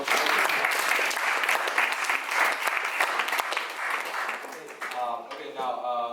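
Audience applause at a student union debate on Hong Kong's 'One Country, Two Systems', dense steady clapping through most of the stretch before it thins out near the end, with voices talking over it.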